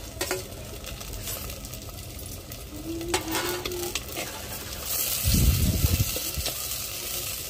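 Chicken curry with tomatoes fries in a pot over a wood-fired stove while being stirred, giving a steady sizzle broken by scraping stirs and a louder burst of frying near the end.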